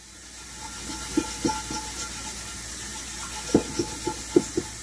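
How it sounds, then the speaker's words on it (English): Hot tap water runs steadily into a sink while a cast iron skillet, an 1891 Wagner, is scrubbed with a steel wool pad and a Lodge scrubber, with a soft hiss and a few sharp clinks and scrapes near the end. "I got some hot water rolling."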